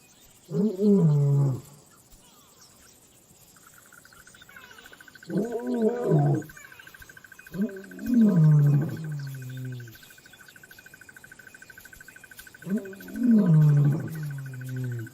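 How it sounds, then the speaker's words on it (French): Several male lions roar in the African wild, each a deep, close series of grunting roars. Four bursts are separated by pauses, over a steady background of chirping insects. "Leurs rugissements mettent les lionnes et leurs petits en alerte."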